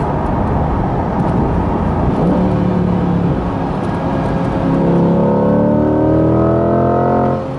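A 2020 Corvette C8 Stingray Z51 accelerates hard, its loud engine note rising steadily through a quick gear change and then climbing again under a constant road roar.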